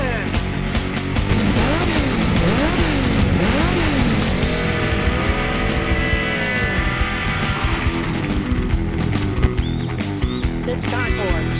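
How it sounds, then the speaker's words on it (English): A car engine revs hard in loud, rising and falling bursts, with tire noise and racing-style acceleration filling the whole stretch and a voice occasionally over it. "Rev up your engine!"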